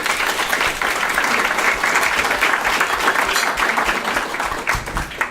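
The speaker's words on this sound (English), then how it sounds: "So I think he deserves a round of applause" A crowd applauds steadily, dense clapping filling the space for several seconds without a break.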